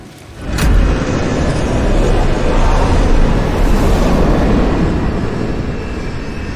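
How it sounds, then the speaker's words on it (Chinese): A sharp click is followed by a landing cargo plane's loud, broad roar that swells suddenly, holds steady for several seconds, then slowly eases off. "这不是咱们陆航的飞机吗"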